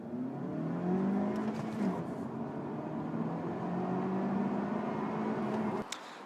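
Honda Civic GT VTEC turbo pulling hard from first gear, engine note climbing in pitch, easing briefly at a gear change, then rising again before a sudden cut near the end, recorded from the cabin without speech.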